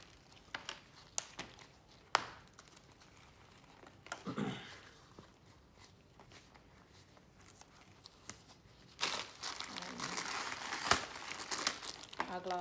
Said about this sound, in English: so now we're going to put gloves on.